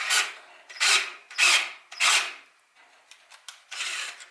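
A drill bites into the block of a turbocharged Nissan D21 Hardbody pickup engine in four short, rasping bursts, each grinding hard for about half a second, followed by quieter scraping and lighter touches.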